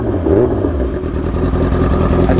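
A Yamaha R6 sport motorcycle engine revs nearby, a loud, rough mid-pitched roar that rises and falls in quick blips over a busy idle, with no talk over it.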